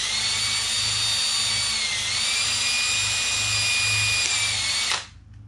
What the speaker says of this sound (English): take my drill and I'm going to cut through right through the floor